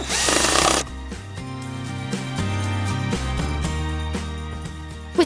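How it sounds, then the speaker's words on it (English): A power drill whirs loosening bolts on a tractor under repair, a loud burst of motor whine at the start, then mechanical ratcheting clicks mixed with a layered musical backing for the rest. "Hear that whirring sound? That is the power drill, loosening the bolts."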